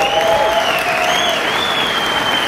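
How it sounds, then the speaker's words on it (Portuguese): An audience at a rock guitar show applauds loudly, a thick continuous patter of clapping with a few high whistles riding on top, sustained evenly from beginning to end. "uma grande salva de palmas para o Cristiano Galvão, por favor"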